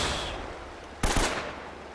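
Two close shots ring out in quick succession in the Uncharted video game, a sharp loud blast followed by a second burst, over steady background noise.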